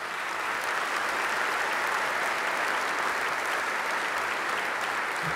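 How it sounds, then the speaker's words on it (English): A large ceremony audience at the 2017 Basketball Hall of Fame enshrinement gives sustained applause for the year's winners, a dense, even wash of clapping from start to finish with no talk over it. "Please give a round of applause to all of this year's winners."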